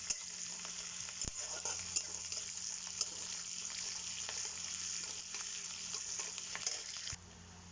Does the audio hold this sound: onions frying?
yes